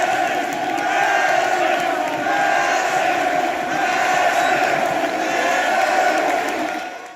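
Large stadium crowd roaring and applauding a goal by Messi against Betis, a dense, sustained wall of cheering and shouting that stays loud throughout and fades slightly at the end.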